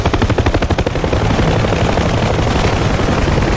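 Massed gunfire from 400-500 soldiers in a war strategy video game set at the Battle of Dien Bien Phu: rapid rhythmic machine-gun bursts that merge into a dense, loud, continuous roar of shooting.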